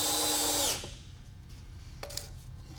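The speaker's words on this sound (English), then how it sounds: "I'm going to drill a 2nd screw in" Power drill driving a second screw into a board while building a DIY gravity deer feeder: a loud, rising whir that stops abruptly, followed by quiet handling noises and a brief clunk.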